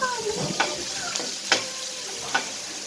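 Ginger fries in a pan with a steady crackling sizzle, close and clear, punctuated by a few sharp stirring clicks.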